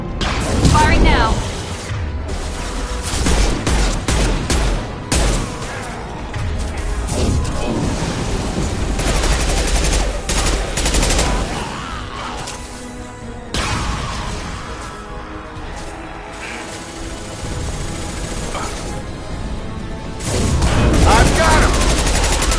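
Sustained gunfire in the video game Mass Effect 2 combat, loud automatic bursts and booming impacts continuing throughout, with voices talking over the shooting.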